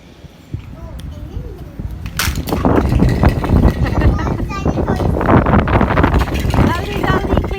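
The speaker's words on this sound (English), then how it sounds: "Oh, it's so windy." Strong wind gusting outdoors in Karachi, roaring and buffeting the microphone in a rising rush that builds midway and stays loud, with a voice and adult speech heard through it.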